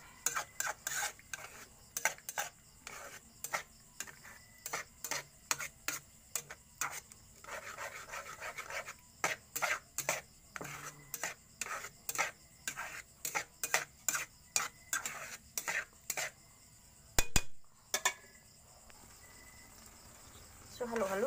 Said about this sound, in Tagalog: So, halu-haluin pa natin ito hanggang sa maluluto talaga siya.